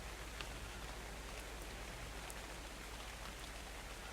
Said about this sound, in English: Oh, but it's getting water from the rain.